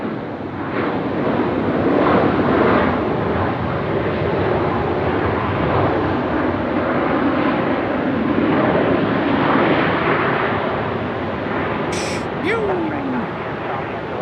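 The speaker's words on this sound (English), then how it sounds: "Ah, the Jetstar aircraft's up here somewhere." A Jetstar passenger jet passes overhead during plane spotting in Melbourne, a broad continuous roar rising and easing across the sky amid gusty wind buffeting the microphone, with people talking over it.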